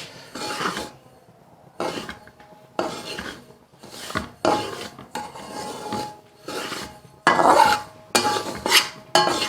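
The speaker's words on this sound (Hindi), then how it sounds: "बिल्कुल धीमी धीमी आंच पर भूननी है सूजी" Semolina slow-roasting over a low flame for a suji halwa, stirred with a utensil in a pan in irregular scraping, rasping bursts separated by short pauses, close and fairly clear with no talk.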